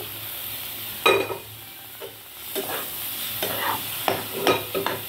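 Semolina in a pan with water just added sizzles steadily while a spoon scrapes and stirs in several short, uneven strokes, close by and moderately loud, no voices.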